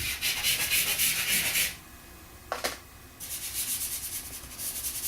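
Pastel rubbed and blended on paper produces a dry, breathy scrubbing in quick strokes, stopping briefly with a small knock before the rubbing resumes, close and clear with no talking.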